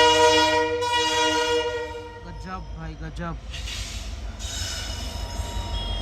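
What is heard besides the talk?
WDG4 diesel train arriving, horn and humming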